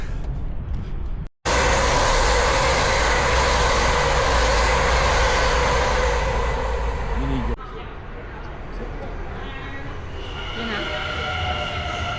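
A train at Hoofddorp station, a loud sustained rumble and roar of a passing or idling train, cut briefly near the start and then dropping to a quieter hum with faint whining tones toward the end.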